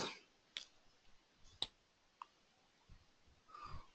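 A computer mouse clicks a few times, sharp and faint, spaced irregularly against a quiet background with light room noise.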